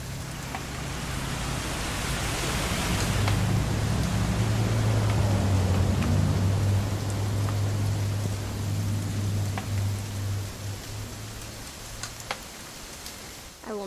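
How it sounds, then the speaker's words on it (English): Steady rain in the video game What Remains of Edith Finch, a continuous broadband hiss with scattered ticks, holding at an even level throughout with a low hum underneath. "It's gonna rain the whole weekend,"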